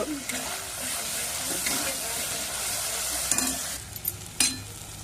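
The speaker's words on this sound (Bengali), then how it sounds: "আমার মশলাটা কষানো হয়ে গেছে" Masala spices sautéing in a pan for kathal and chicken kofta, a continuous loud sizzle with spatula stirring and scraping, sharper clatters near the end.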